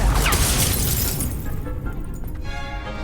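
Loud Confringo fire spell explosion in Hogwarts Legacy, a burst of crackling noise that fades into sizzling, ringing debris and a lingering tonal hum.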